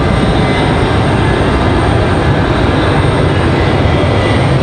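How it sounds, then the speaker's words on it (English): A Southwest airliner goes around at Raleigh-Durham International Airport, a loud, steady, broad engine roar that holds constant throughout without any talking. "For Southwest, doing that go around"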